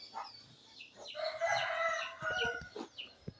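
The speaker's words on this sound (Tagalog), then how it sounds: "Basa yung mga manok kaya maaga pa sila humingi ng pagkain." Wet chickens, including a rooster, cluck and crow close by after a night of heavy rain, calling loudly and repeatedly for early food in a farmyard.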